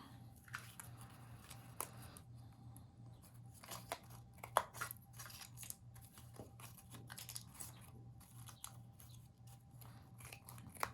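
Scissors snip through paper craft material for a hay ride scrapbook layout, giving scattered quiet cuts and rustles over a steady low hum, with no talking.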